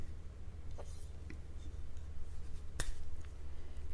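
A full-tang fixed-blade hunting knife slices through a plastic zip tie, giving one sharp, brief snap partway through, close and crisp over a low, steady background rumble.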